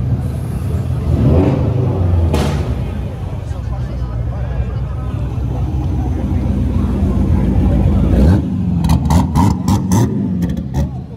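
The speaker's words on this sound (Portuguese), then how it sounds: "Olha o escape do Fusca." A Volkswagen Beetle engine rumbles and revs loudly through its exhaust throughout, with people talking over it and a few sharp crackling bursts near the end.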